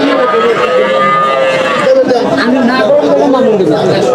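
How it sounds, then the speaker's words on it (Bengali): Jersey cattle mooing at a busy village cattle market, loud drawn-out moos from several animals close by over a constant crowd murmur and people talking. "এখানে অসংখ্য গরু আছে।"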